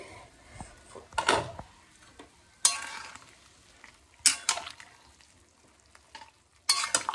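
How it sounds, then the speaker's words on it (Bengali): Soybean chunks cooking in a pan, quiet sizzling broken by several sharp bursts of stirring as a utensil scrapes and clatters against the pan, spaced a second or two apart. "আর এদিকে লাস্ট সোয়াবিনটা আমি বসিয়ে দিয়েছি"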